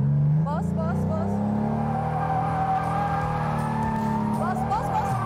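A car engine revs hard and holds high while drifting in the Assetto Corsa racing game, with pitch rising and falling and a brief squeal near the end, under people talking.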